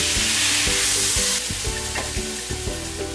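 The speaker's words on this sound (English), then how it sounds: "we're gonna add the onions from earlier. Stir it around just a little bit." Onions sauté in hot oil in a wok, with a loud continuous sizzle broken by repeated scraping and stirring strokes of a utensil against the metal, close up and with no talking.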